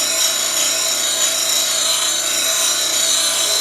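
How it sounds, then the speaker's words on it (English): Grinder flattening a homemade beading tool straight across, a loud, close, continuous metallic grinding whine holding steady throughout with no pauses. "You just keep grinding it straight across."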